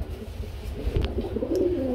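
Racer pigeons coo nearby in a pen, low rolling calls rising toward the end over a faint background hum.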